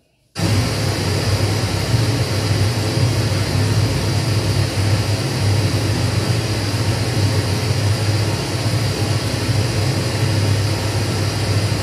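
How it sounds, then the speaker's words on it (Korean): Flowing water plays as a loud, steady rushing roar that starts abruptly and continues unbroken to the end, with a deep low rumble beneath a broad hiss and no voices. "이건 다른 물소리입니다."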